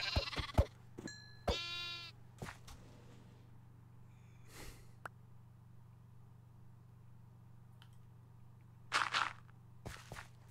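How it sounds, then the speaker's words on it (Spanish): Sheep bleat a few times in separate bursts over a low steady hum, with scattered thumps and rustles between calls; no talking. "Las ovejas."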